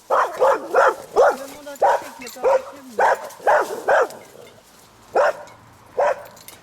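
A dog barks in quick bursts of three or four, loud and close, pausing between runs, with a faint whine underneath.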